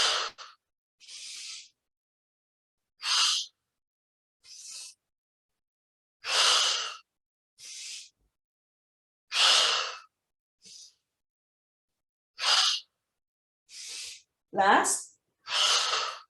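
Audible breathing during a centering meditation exercise, repeated inhales and exhales close to the mic, each a separate breathy burst with silent gaps between, and brief spoken words between some breaths.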